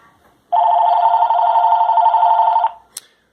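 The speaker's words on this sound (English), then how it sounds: "I'm calling the house again from the cell phone" A landline home phone connected through a Phone Lynx Bluetooth cellular adapter rings for an incoming call placed from a cell phone: one sustained electronic ring, loud and close, stopping abruptly in an otherwise quiet room.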